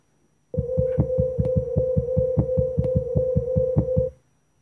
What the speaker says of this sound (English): Here is the sound of the Kepler star.